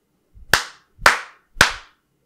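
Three evenly spaced hand claps in a home recording room, each sharp and loud with a noticeable echoing tail that fades before the next clap.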